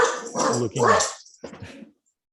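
A player at a tabletop role-playing session imitates a dog, letting out a quick run of voiced barks and yips up close, with no other sound behind it.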